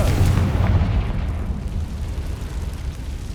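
A Confringo fire spell explodes in Hogwarts Legacy, a loud booming blast with a heavy low rumble at the start that slowly fades into a sustained roar.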